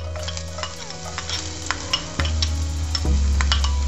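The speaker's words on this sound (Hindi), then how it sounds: "साथ ही मैं इसमें गार्लिक डालने वाली हूँ" Chopped garlic and two dried red chillies sizzling in hot oil in a pan, with close stirring clicks and a frying hiss that grows louder partway through, no speech.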